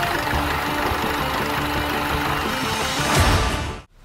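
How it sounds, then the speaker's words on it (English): Isuzu 4JJ1 diesel engine running rough on three cylinders with faulty injectors, a steady close idle with an uneven knocking pulse under broadband noise, cutting off abruptly at the end. "The engine was just limping. It was running on 3 cylinders,"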